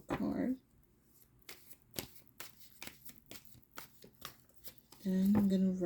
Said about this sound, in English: pulling one final card, Clo card